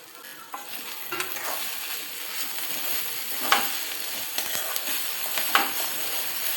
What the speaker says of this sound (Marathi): मीठ टाकून व्यवस्थित आपण परत ढवळून घ्यायची आहे